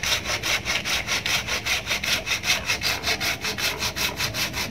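Hand saw cutting through a large ficus bonsai blank, with steady rhythmic back-and-forth strokes of about four per second, close and continuous, with no talk.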